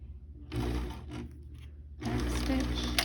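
A sewing machine stitches fabric for a 3D face mask, running in two steady bursts with a brief pause between them, close and fairly loud over a low hum.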